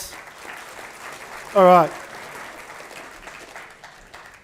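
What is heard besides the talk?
audience applause for volunteer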